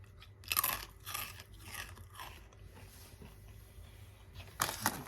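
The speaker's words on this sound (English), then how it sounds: "corn chips that they're super crunchy, very nice flavor, very salty" Fried, salty Fritos corn chips crunched and chewed up close, with loud bursts of crunching at the start and again near the end and quieter chewing in between, no talking.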